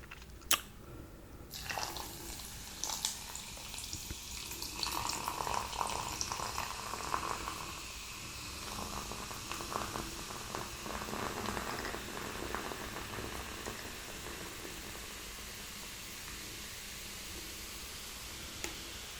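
A fizzy drink is poured into a cup, giving a close, continuous crackling fizz with bubbly drips that holds steady and slowly settles, with no talking.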